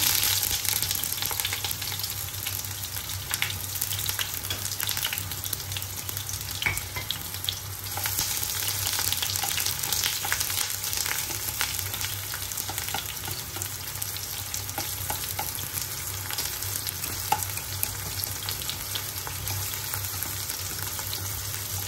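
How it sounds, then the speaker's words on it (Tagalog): Onion sautéing in oil in a frying pan for yakisoba stir-fry noodles, a steady close sizzle with faint stirring scrapes throughout and no talking. "Medyo gisahin lang natin ng konti yung ating onion"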